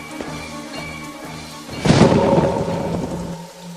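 Heavy rain hissing steadily, then a loud rolling thunderclap that swells and slowly fades back into the downpour.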